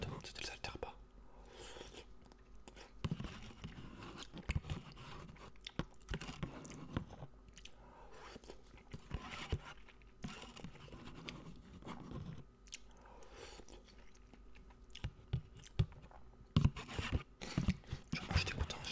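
Close, quiet chewing and biting of naruto fish cake in an ASMR tasting, soft moist crunches and mouth sounds recurring in bursts, with whispered talk between bites.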